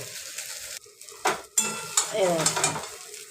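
A fish-free spice mixture being stir-fried in a pan, with scraping and clinking of a utensil against the metal over a light sizzle, in irregular bursts, close up.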